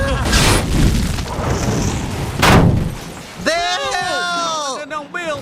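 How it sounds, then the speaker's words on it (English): A massive mortar shell blast hits a tank in an animated show, opening with a loud booming burst and a second heavy boom, then tapering into tonal ringing and shouting voices over a fading rumble. "he survives a massive mortar shell explosion while inside said exploded tank"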